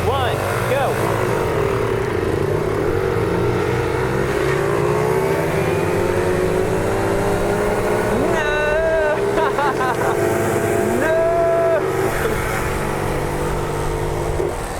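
Mini motorcycles, a mini Harley, a Honda Monkey Baja and a Motocompacto, race and accelerate with loud engine buzz and rising revving whines for about fifteen seconds, while people talk and shout over them.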